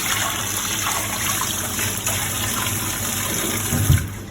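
Tap water runs steadily over a whole coral trout being rinsed, a continuous gushing splash with a brief heavier splatter near the end.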